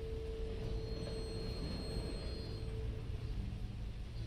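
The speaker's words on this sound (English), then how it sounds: "Train's getting on my nerves." Passing train in Red Dead Redemption 2, a steady low rumble of rolling wagons with a faint squealing whine above it, continuous and moderately distant, no talk.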